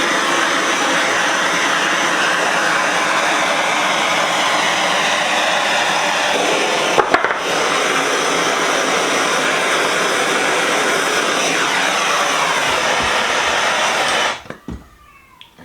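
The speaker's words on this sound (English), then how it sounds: "I'm going to torch it" A propane torch roars steadily and loudly while heating a cast iron chiminea to dry it out, with one brief dropout midway before the flame cuts off near the end.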